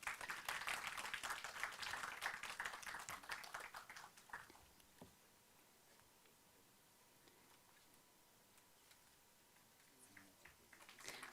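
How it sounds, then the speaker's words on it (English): Audience clapping at the 7th World Islamic Economics and Finance Conference, a fairly quiet burst of many hands that thins out after about four seconds, leaving near silence with a few scattered claps later. "A round of applause, everyone."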